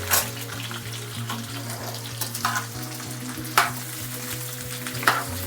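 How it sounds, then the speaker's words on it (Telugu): Cauliflower frying in a pan for pickle gives a steady close sizzle under a low hum, broken by a few sharp scrapes and knocks of stirring. "తడి పోయే వరకు మనం ఫ్రై చేస్తాం."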